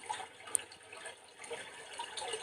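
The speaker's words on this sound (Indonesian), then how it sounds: "Dengarkan suara tetesan hujan dan rasakan suasananya" Light water dripping and trickling in a calm outdoor setting, soft scattered drops with a few brighter plinks over a faint steady wash, no voices.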